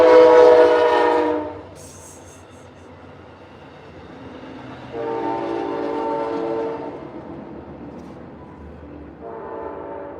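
An Amtrak train passes while its horn sounds in three long, loud blasts, the first close and strong and the later ones separated by a low rolling rumble of the cars.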